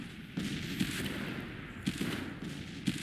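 Rifle volleys and artillery from a Civil War battle in a strategy game crackle in a low, distant rumble, with a few sharper bursts standing out at irregular intervals; no one speaks.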